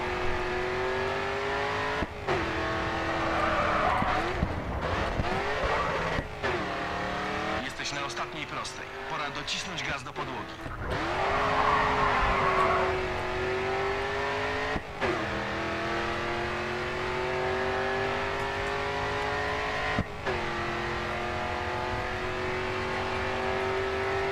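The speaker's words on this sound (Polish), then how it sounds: "Mustang pięknie gra po prostu. Ten silnik to można słuchać." A Ford Mustang race car in GRID 2 revs hard and repeatedly, its engine note climbing and dropping through gear shifts with occasional tire squeal, loud and close, while a voice talks over it.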